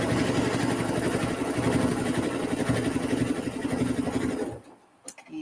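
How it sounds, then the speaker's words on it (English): A sewing machine hums steadily as it stitches a fabric seam, close and continuous with a fine rapid needle rhythm, then stops abruptly near the end, leaving a few faint handling noises. "And I'm just going to sew."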